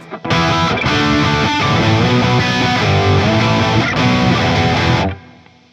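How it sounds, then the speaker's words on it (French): Heavily distorted electric guitar strings rubbed and scraped, giving a dense buzzing wash of hiss and parasitic noise that runs loud and continuous for about five seconds, then cuts off into quiet. "si je frotte sur les cordes, on va entendre tous les bruits parasites"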